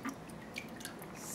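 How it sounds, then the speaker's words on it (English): Rennet is poured from a cup through the holes of a spoon, making a brief run of light, quiet drips and trickles that patter irregularly for about a second. "I'm going to pour the rennet through the holes in this"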